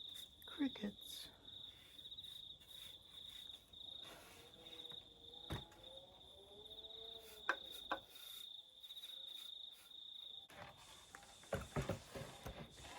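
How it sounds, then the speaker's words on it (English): A steady high cricket trill runs throughout, with a few scattered knocks and faint background sounds beneath it. "Crickets."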